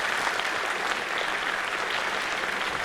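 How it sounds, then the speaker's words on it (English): An audience at a school annual day event applauds, dense and even clapping from many hands filling the space continuously at close range. "Please give a round of applause."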